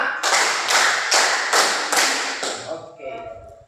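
Schoolchildren clap in unison on a teacher's count, five or six sharp, evenly spaced group claps, loud and near, then a voice talks as the room settles.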